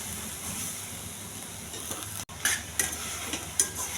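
Boiled chickpeas being stirred into a hot tempering with turmeric and chili, a soft sizzle of frying under scraping spoon strokes against the pan, with a few louder clinks and stirs toward the end.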